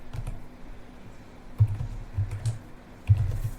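A laptop keyboard being typed on to enter a command, quick clusters of close, soft key clicks in bursts with short pauses between, no talking.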